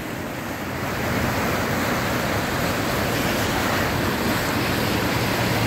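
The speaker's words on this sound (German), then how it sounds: "mittlerweile läuft das Wasser sogar daneben" Flood water and surf churn in a loud, continuous wash in Alanya, with gusts of wind buffeting the microphone and no talking.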